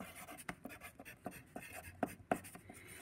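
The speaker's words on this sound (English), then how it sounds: "So I'm going to write that down." Notes being written during a math lesson on quadrilaterals: soft, close pen or marker strokes and taps in an irregular rhythm, quiet, with no speech.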